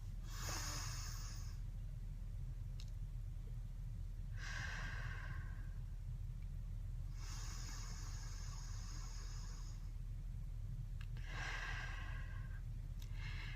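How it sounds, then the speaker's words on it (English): Two deep, slow breaths taken by one person in quiet surroundings, each a long airy inhale and exhale, fairly close and soft, over a steady low hum of background noise. "2 deep breaths and a prayer."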